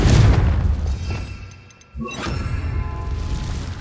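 A Confringo blasting curse from a Harry Potter video game: a heavy booming blast that fades, a brief lull, then a second sharp crack followed by a sustained rumbling roar.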